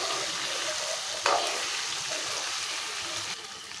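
Egg curry simmers in a pan while being stirred, a soft bubbling sizzle with a brief scraping stir near the start, close and quiet, no voices.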